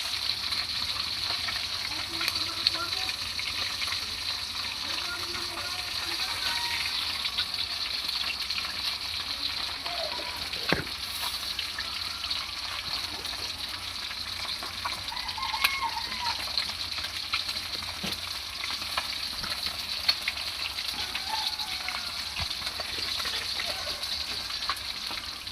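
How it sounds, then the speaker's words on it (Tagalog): Fish fries in boiling oil outdoors on an island, giving a steady, moderately faint sizzle and crackle throughout with occasional pops and light clinks. "nagpiprito na tayo"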